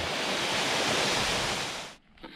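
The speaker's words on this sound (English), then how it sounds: "Nice waterfall." Waterfall on a river in Northern Thailand, heard from a kayak, roars as a loud, steady rush of water that cuts off abruptly near the end, leaving quieter ambience.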